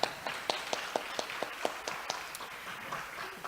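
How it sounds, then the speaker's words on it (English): A small audience at a regional kickoff event claps in a brief, sparse round of about a dozen distinct hand claps at a steady rhythm, fading after a few seconds, heard from a moderate distance with no talk. "Yes, claps."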